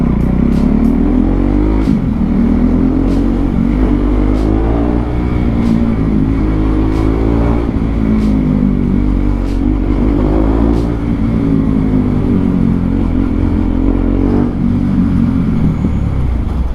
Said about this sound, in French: j'aime trop le bruit que ma bécane elle fait dans cette rue là, comme ça résonne